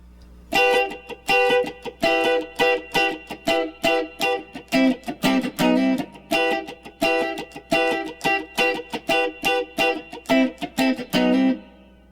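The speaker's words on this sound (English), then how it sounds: "Here is what the guitar sounds like clean with no effects." Clean electric guitar with no effects playing a song, notes and chords picked in a steady rhythm with sharp attacks and ringing sustain, played alone and fairly loud.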